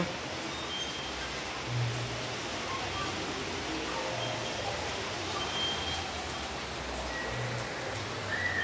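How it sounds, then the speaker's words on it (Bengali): Rain pours down in a steady, even hiss, a dense continuous wash of falling water heard at a moderate distance. "খুব জোরে বৃষ্টি হচ্ছে"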